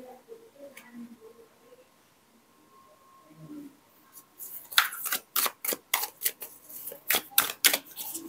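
Tarot cards are handled and shuffled close up, a rapid string of sharp papery snaps and flicks after a quiet stretch where a voice speaks softly.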